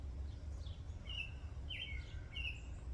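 Several short, thin bird chirps ring out clearly over steady low rumbling background noise, spaced irregularly across a few seconds outdoors in the morning.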